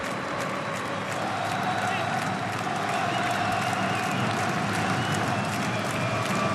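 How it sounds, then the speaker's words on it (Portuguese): Botafogo supporters make noise in the stands at a 2014 Campeonato Carioca football match against Vasco, a steady, distant crowd roar that stays even throughout. "A torcida do Botafogo é pequena, faz algum barulho nesse momento"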